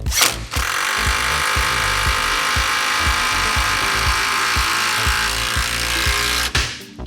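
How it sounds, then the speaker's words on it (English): An impact driver with a 1/2-inch socket drives a lag bolt into wood for shelving, its motor whining loudly under a fast, steady train of hammering impacts that stops abruptly after about six seconds. "Then I got my 1/2-inch socket on my driver, and we'll run it in."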